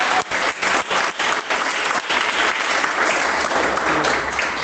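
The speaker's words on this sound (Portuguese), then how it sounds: "Desocupar as mãos e dar uma salva de palmas bem alegre para Jesus" A church congregation claps loudly and briskly in a lively, rhythmic burst of applause that holds steady throughout, with no talking over it.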